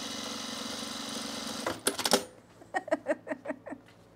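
A sewing machine stitches cargo pants in a steady whirring run that stops abruptly, followed by a few clattering mechanical knocks and taps at an uneven rhythm.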